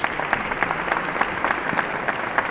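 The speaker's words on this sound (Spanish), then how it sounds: "Un aplauso, viene el Padre Ángel ya con nosotros." Audience applause in a church welcoming Padre Ángel at a Christmas-season event, a steady wash of many hands clapping throughout at moderate volume with no speech over it.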